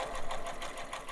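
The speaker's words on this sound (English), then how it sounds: "I am going to use the overcast presser foot G and a regular zigzag stitch for overcasting" Close up, a sewing machine with overcast presser foot G runs a zigzag overcasting stitch on quilting cotton, a fast, even rhythmic chatter steady throughout.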